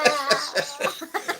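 A person coughs repeatedly at close range, a quick run of raspy, throaty bursts in fast succession, loud and dry.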